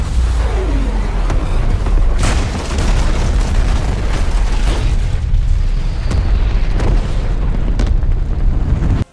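Greek fire turret explosions in Assassin's Creed Revelations rumble continuously as booming blasts and fiery bursts pile up into a dense, loud roar with occasional sharper cracks.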